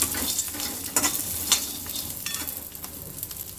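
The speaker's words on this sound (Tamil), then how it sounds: "கொஞ்சம் காந்தாமல் இந்தளவுக்கு ரோஸ்ட் ஆனால் போதும்" Roasted gram and curry leaves are stirred and toasted in a hot pan for chutney, giving a steady sizzle with a few sharp scraping clicks of the spoon against the pan.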